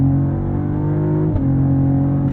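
A 2023 Cadillac CT4-V Blackwing engine revs loudly and steadily under acceleration, a strong continuous drone with a brief dip and shift in pitch partway through, heard close from inside the car with no talk.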